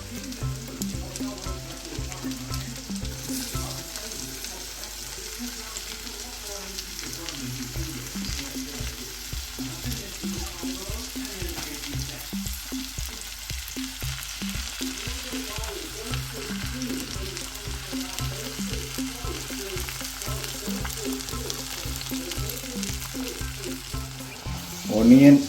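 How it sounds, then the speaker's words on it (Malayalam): Chopped onions fry in a hot pan with a steady, dense sizzle and crackle lasting throughout, with occasional stirring scrapes and a louder clatter at the very end. "അതിലേക്ക് ചോപ്പ് ചെയ്ത് വെച്ചേക്കുന്ന ഒണിയൻ ഇട്ട് കൊടുക്കുക."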